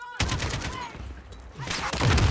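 Gunfire in the video game Call of Duty Modern Warfare: loud, close bursts of automatic fire crackle almost continuously, with heavier shots swelling near the end.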